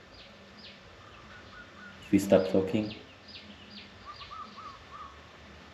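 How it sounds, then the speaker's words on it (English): In quiet rural Madura countryside near a farm, small birds chirp faintly in the distance. A person speaks briefly before the chirps come through. "just the birds chirping, the wind, the banana leaves just kind of fluttering in the wind."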